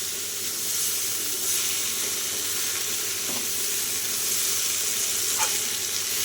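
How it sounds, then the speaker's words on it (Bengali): Vegetables for a vegetarian ghyat curry fry in a pan, a steady moderate sizzle and hiss with a couple of soft stirring knocks and no voices. "আর একটুখানি ভেজে নিই তারপরে একটু জল দেবো"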